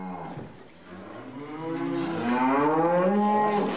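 A cow on a farm moos in one long, drawn-out, rising call that grows louder and stays strong to the end, heard alone and close with no talk over it.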